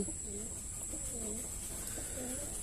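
A pigeon held in the hand for fitting a leg ring gives soft, low, repeated coos, about three rolling phrases, close by over a steady high background hiss.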